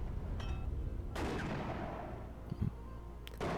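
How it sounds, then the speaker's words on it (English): Mortar fire in the WARNO battlefield, heard as distant booming impacts and crackling gunfire over a low rumbling background, with a sharper blast partway through and scattered reports after. "Good use of mortars."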